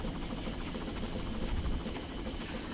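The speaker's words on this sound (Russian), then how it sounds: "Вертолеты, херолеты всякие тут." A helicopter in the video game Far Cry thrums with a steady, rapid rotor chop and engine whine, continuous and fairly close throughout with no voices.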